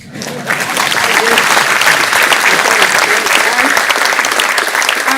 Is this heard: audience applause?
yes